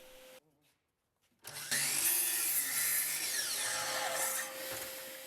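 A power tool cuts 45-degree angles on both sides of small wooden kumiko infill pieces for Japanese woodworking, a steady high whining cut lasting several seconds after a brief quiet start, close and fairly loud.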